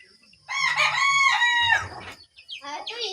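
A rooster crows loudly and close by, with hens clucking low beneath it, then a second, shorter crow trails off at the end.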